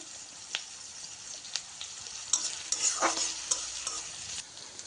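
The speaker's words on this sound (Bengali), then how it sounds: "পেঁয়াজটা ভালোভাবে ভেজে নিতে হবে মরিচের সাথে" Onion frying with chillies in a pan gives a steady, fairly quiet sizzle, with a few sharp scrapes and clicks of stirring scattered through it. The frying grows a little busier toward the middle.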